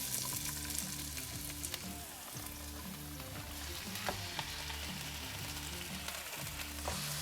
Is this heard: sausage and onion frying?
yes